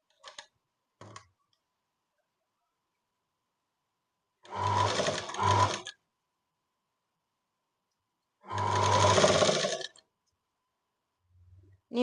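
A sewing machine stitching a blouse without canvas runs in two bursts of rapid, steady needle chatter, each lasting over a second, separated by quiet gaps with a few small clicks of handling.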